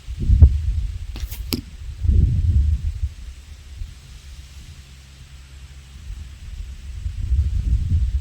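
A single sharp bow release with a quick arrow whoosh, set against gusty outdoor wind rumble, with no talking.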